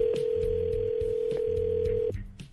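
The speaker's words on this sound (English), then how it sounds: "This is the phone call from yesterday." Playback of a recorded phone call: a steady electronic tone with a repeating lower ring pattern in short pulses, loud and close, breaking off near the end.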